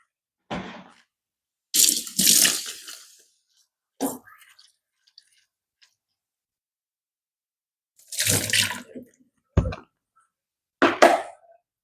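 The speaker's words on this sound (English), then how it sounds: "we're going to go ahead and rinse off the jalapenos" Jalapeños rinsed under a kitchen tap come through as short, close splashes and gushes of running water, broken up by stretches of silence between rinses.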